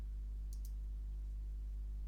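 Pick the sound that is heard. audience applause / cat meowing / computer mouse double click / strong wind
computer mouse double click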